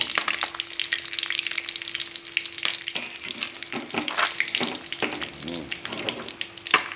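Fish frying in a little vegetable oil, loud close crackling and sizzling with bursts of spattering and stirring scrapes throughout, no talking.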